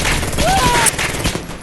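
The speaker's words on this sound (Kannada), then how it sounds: "ಓಕೆ, ನಮಗೊಂದು ಮಿಷಿನ್ ಗನ್ ಸಿಕ್ಕಿದೆ." A machine gun fires a rapid burst in the World War II shooter game Polyfield, loud and close, with faint voices underneath.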